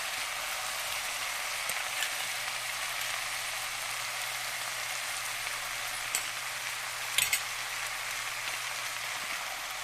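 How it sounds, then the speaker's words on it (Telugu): Bitter gourd (karela) fries in a pan as a steady, even sizzle and crackle, close and moderately loud, continuing without pause throughout with no talking. "చక్కగా ఫ్రై అవుతుంది"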